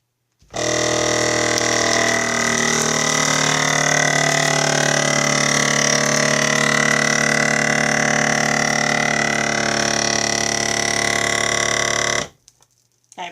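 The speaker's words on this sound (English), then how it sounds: "and hit vacuum seal" Countertop vacuum sealer sealing a bag of dry chili meal with beef and beans, a loud steady motor drone running for about twelve seconds before cutting off abruptly.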